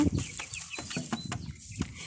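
Hens clucking close by in short, irregular bursts, a few soft clucks overlapping with no talking.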